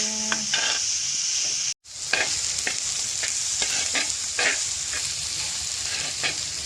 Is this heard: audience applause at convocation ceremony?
no